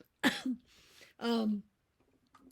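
A single sharp cough bursts out, followed moments later by a longer raspy throat-clearing cough, close and loud against a quiet background.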